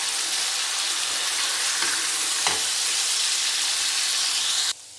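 Ingredients for mutton kofta curry frying hard in hot oil, a dense loud sizzle and hiss continuing steadily throughout before dropping off abruptly at the end.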